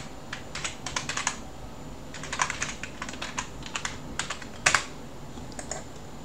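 Key clicks from a computer keyboard during an Arch Linux install, coming in uneven runs of rapid strokes with gaps between them and a couple of sharper, louder hits, close by with no voices.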